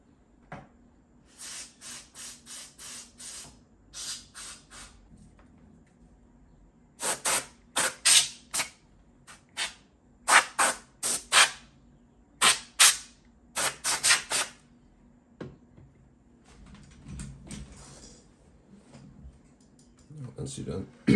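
Compressed-air dust remover blown into a PS5 cooling fan in sharp hissing bursts, some short, some in quick clusters, with quiet speech underneath.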